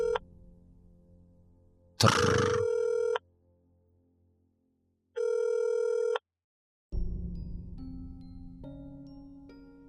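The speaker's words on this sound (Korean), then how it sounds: "신호음이 울리다" A telephone ringback tone sounds in two long electronic bursts separated by silence, followed by a lower-pitched tonal signal with a harsh burst at one point.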